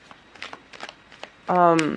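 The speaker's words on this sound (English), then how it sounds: "we'll get the cards shuffled out for you for this month" Tarot cards being shuffled, a run of soft papery flicks and taps followed by a louder riffling burst at the end; faint talk may sit underneath.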